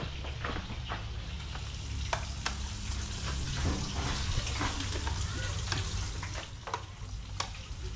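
Steady loud sizzling of fish frying in a hot pan, with occasional crackles and pops throughout.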